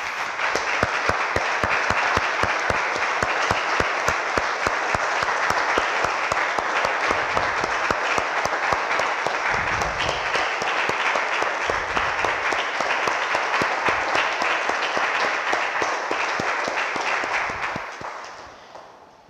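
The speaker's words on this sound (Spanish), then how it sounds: "Damos un aplauso," A church congregation claps together in a long, full round of applause that stays loud and dense for about seventeen seconds before fading out at the end.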